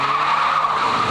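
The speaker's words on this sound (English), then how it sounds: "The other important bit of kit the GT brings to the party is a good set of anti-lock brakes. The stops are short, controlled and fade-free" A Chrysler PT Cruiser GT brakes hard on its anti-lock brakes, giving a loud, continuous tire squeal and skid held steadily for about a second with no voices.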